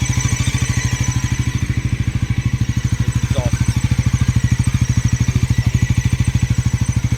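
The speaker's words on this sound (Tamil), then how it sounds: "மிச்சப்படி இன்ஜின் சவுண்ட் வந்து ஜஸ்ட் கேட்டு பாருங்கள்." A liquid-cooled Bajaj Pulsar NS400Z motorcycle engine idles steadily nearby, a loud, even low thrum with a rapid regular pulse throughout, no voices.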